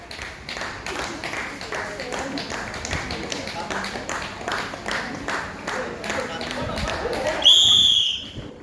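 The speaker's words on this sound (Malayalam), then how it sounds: "കയ്യടിച്ച് പ്രോത്സാഹിപ്പിക്കോ" Spectators at an Onam sports day race clap steadily in rhythm to cheer the runners, a dense continuous patter of hands, and a sharp whistle blows near the end.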